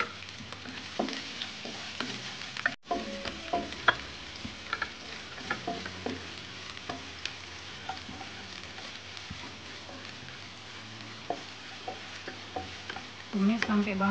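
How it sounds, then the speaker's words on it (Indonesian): Garlic sautéing in oil in a pan, a faint, patchy sizzle with occasional ticks and stirring clicks throughout, and a louder burst of frying near the end. "Kemudian akan saya tumis bawang putih terlebih dahulu."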